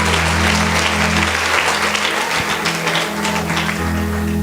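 A church congregation applauds steadily together throughout, a dense wash of clapping over a low sustained tone, likely an organ or keyboard held underneath.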